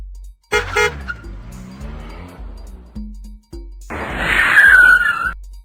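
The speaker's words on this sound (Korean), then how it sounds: "600번 버스 600번 버스 출발" A bus departs in a Say Hi Kids flash game, with a short synthesized toot, a gliding engine tone, then a bright, louder honking horn burst near the end.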